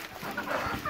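Chickens raised for meat cluck in a short, dense burst of farmyard noise, the calls overlapping and fairly close with no talk over them.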